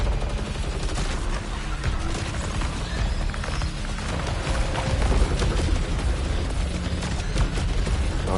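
Dense, continuous gunfire with booming blasts rolls on without pause in the PS5 video game Saros, heavy and loud throughout.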